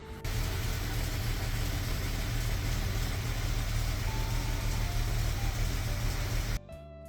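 An old DKW car's engine runs loud and steady close by after a short start, then cuts off abruptly near the end, leaving a quieter pause.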